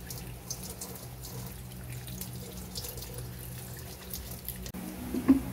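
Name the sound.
water being poured into pot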